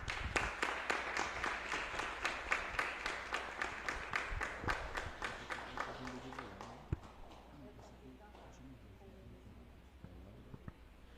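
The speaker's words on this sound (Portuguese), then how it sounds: "salva de palmas." Hands clap in a steady, even rhythm in a church during a feast-night Mass for São Bento. The beats are loud at first, then thin out and fade over the last few seconds while voices murmur underneath.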